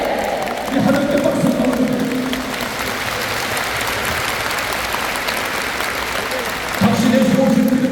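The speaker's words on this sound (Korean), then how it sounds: "우리 하나님께 박수 받습니다" Congregation clapping at a church denomination anniversary service, a sustained wash of applause in the middle with a voice speaking at the start and end over a sound system.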